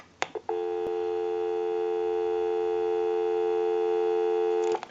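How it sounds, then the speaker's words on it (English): A steady, unbroken telephone dial tone plays on an original Snoopy and Woodstock novelty phone converted for modern service. It begins after a few handset clicks and holds evenly for about four seconds. "We'll go ahead and give you some dial tone."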